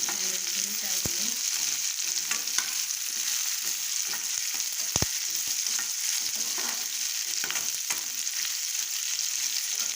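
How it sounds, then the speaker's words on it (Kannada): Chana dal and tempering roasting in a pan, a continuous crackling sizzle with the scrape and clink of a spatula stirring, close and steady with no talk. "ಹುರಿತಾ ಇದ್ದೀನಿ."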